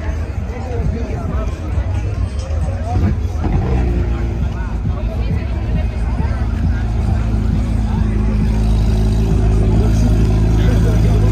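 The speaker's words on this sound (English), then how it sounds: "GT3 on startup." A Porsche GT3 supercar starting up at a supercar show at the Hard Rock Casino, a loud continuous engine roar that builds and holds steady, with crowd chatter and voices mixed underneath.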